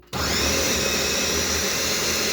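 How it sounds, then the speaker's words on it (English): A blender whirs loudly and steadily up close as it mixes a block of cream cheese with the cream solids from three cans, starting abruptly and holding a constant motor drone. "then we're going to blend it"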